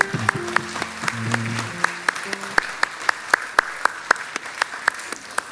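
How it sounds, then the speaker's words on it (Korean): A church congregation applauds during a Sunday worship service, a dense steady wash of clapping with sharp individual claps standing out, and a low voice is briefly audible underneath. "박수로 우리 같이 환호합시다."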